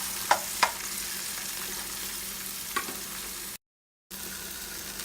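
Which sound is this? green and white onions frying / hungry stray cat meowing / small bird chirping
green and white onions frying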